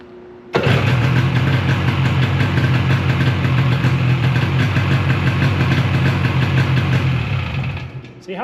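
A Yamaha Phazer snowmobile engine starts and then idles steadily and loudly up close, with a continuous low rumble that runs almost to the end.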